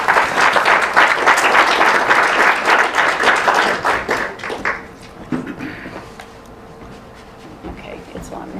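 Audience applause welcoming a speaker named Charlie to a presentation, a dense, loud burst of many hands clapping for about four seconds, then fading into scattered claps and quiet room noise.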